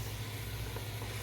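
Onions and a seasoning blend sizzle steadily in a pot while sauteing, a close, continuous frying hiss with a low steady hum beneath and no talking.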